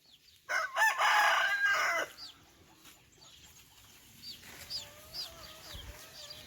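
A rooster crows once loudly and close, followed by softer clucking and bird chirps in the quiet background.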